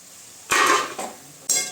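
Greens being stirred with salt and turmeric in a metal cooking pot, giving a short scraping clatter of utensil against pot, a pause, then another brief scrape, close and fairly loud with no talk.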